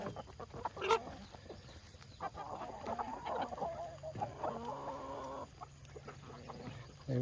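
Farm chickens clucking nearby, a run of repeated soft clucks and brief louder calls over a quiet, rain-damp background.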